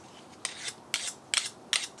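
A hand sharpener drawn across the blade of a Quick Cut Greens Harvester, giving four separate raspy, scraping strokes at a steady rhythm, close and fairly quiet, with no talking.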